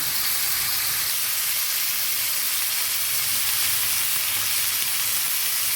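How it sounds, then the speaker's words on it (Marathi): Tomato slices sizzle in ghee on a pan over medium heat, a steady, even frying hiss that runs without a break and has no talk over it. "ह्याच्यामध्ये आपण एक मीडियम गॅसवरती त्याला व्यवस्थित परतून घेऊया."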